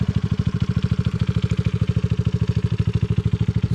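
A 1986 Honda ATC200X three-wheeler engine fitted with a CRF230 exhaust runs at a steady, fast-pulsing idle, close and loud, with no talk.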